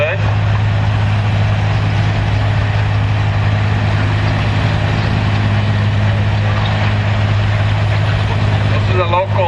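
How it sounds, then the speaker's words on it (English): A restored local farm tractor with a 282-cubic-inch six-cylinder diesel at a Lynden, Washington truck pull, roaring loud and steady throughout, with an announcer's voice partly under the engine drone. "Big 6-cylinder diesel under the hood."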